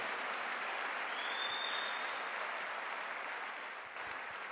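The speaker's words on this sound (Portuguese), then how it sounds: "E dá um aplauso a Jesus." Church congregation at a Sunday service applauding together, a dense, continuous wash of clapping that holds steady for several seconds with no one speaking over it.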